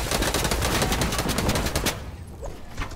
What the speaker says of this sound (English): I think we're being shot down.